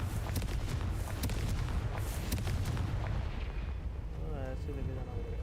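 Confringo spell blasts in Hogwarts Legacy go off as a rapid series of sharp, loud booming bursts, densely packed for about three seconds, then the clip settles into a quieter rumbling tail with faint tonal sounds.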